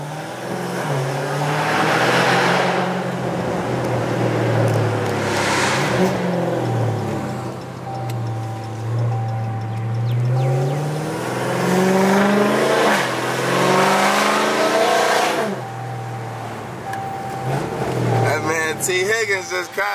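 Dodge Hellcat accelerating and sliding with traction control off, engine surging in repeated loud revving swells that rise and fall, heard from inside the car with someone talking over it.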